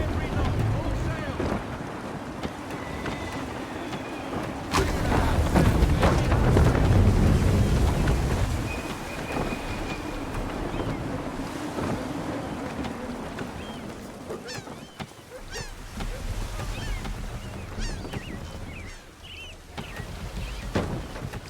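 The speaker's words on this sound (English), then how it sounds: "Gusty winds can be difficult to manage." Gusty wind buffets a sailing ship at sea in Assassin's Creed 3, a steady roar of wind and water with a louder surge midway, softer creaking and splashing after.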